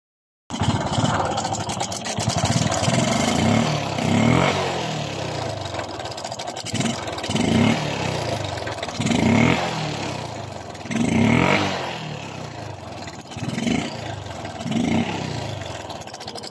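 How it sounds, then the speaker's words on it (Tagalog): A Suzuki Smash 115 motorcycle engine idles and revs repeatedly, rising and falling in rhythmic surges, with a persistent metallic rattling chatter from a noisy timing chain over the running motor. "yan po ay tunog ng timing chain"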